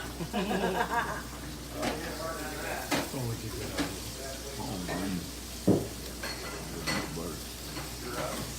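Salmon sears in oil and butter in a pan, giving a steady sizzle with occasional clinks of utensils while a person talks over it.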